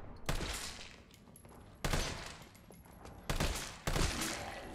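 Four loud gunshots in the game Resident Evil 3, spaced irregularly with each blast trailing off in a long echoing decay.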